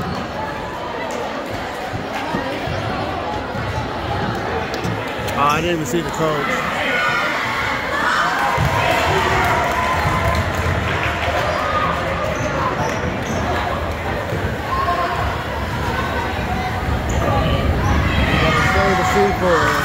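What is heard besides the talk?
crowd at a junior high basketball game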